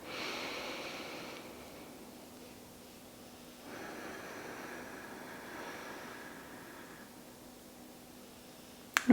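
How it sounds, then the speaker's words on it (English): A slow, deep breath at the end of a mindful mobility and core practice, a long soft inhale and a longer airy exhale, close and quiet, with no talking. "Final breath on your own."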